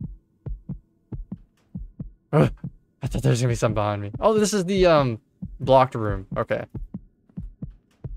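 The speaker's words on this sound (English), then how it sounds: "That's a loud, loud heartbeat." A loud, throbbing heartbeat effect in a horror video game pulses steadily throughout, with someone talking over the middle section.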